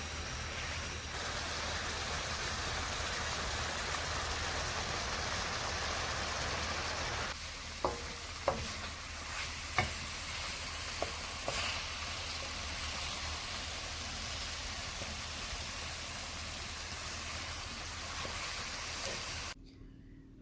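Hot wings cook in a pan over medium heat, giving a steady soft sizzle throughout with a few light clicks and knocks partway through before the sound cuts off near the end.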